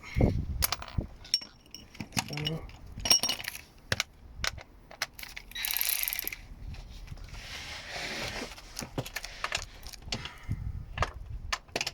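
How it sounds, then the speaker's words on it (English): A ratchet clicks in quick bursts while working on a BMW E36 during engine and gearbox removal, with scattered metallic clatter and tool knocks around the bursts, close up, and no talking. "ratchet."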